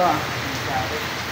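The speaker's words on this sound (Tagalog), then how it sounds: "magpapatila muna kami ng ulan. Kasi nabutan kami sa daan." Steady rain hisses in a continuous wash of noise, fairly close and loud, with a brief faint murmur near the start.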